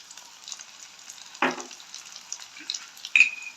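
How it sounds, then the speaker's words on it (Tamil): Mustard seeds drop into hot oil in a pan for a home-style green chili curry, giving a soft continuous sizzle with a brief louder crackle and a few light pops and clinks; no speech. "கடுகு போடுறோம் கொஞ்சம்."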